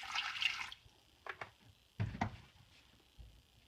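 Items being soaked in a water-based nutrient mix make liquid splashes and sloshing, a bright burst at first, then several short separate swishes and drips, close and moderately loud.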